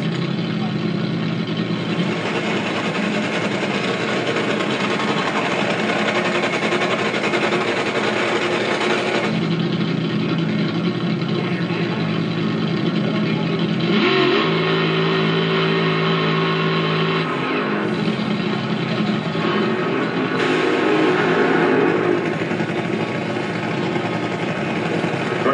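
Drag racing cars at a Pomona event, heard as a loud, continuous engine roar with surging rises and falls in pitch and brief stronger bursts, blended with a wash of crowd and track noise.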